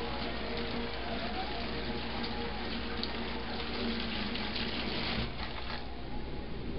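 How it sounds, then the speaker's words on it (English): Dyed yarn being rinsed under a running sink tap: a steady, close, broadband rush of water that stays even and continuous from start to end, with no talking. "I'm just going to rinse it off to make sure that there's no extra color hanging out in there"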